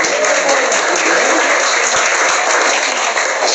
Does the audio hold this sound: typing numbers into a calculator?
no